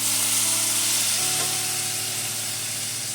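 Ginger-garlic paste sizzles loudly in a pan as tomatoes go in for mutton paya, a dense steady frying hiss that eases slightly after the addition with no talk over it.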